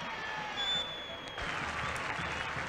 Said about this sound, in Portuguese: Muitos aplausos aqui na Vila